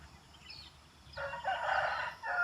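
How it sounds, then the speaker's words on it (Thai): A rooster crows once at moderate distance in the morning at a resort in Thong Pha Phum, Kanchanaburi, Thailand, a drawn-out call rising and holding, with a quieter bird call just before it. "ไก่ขัน"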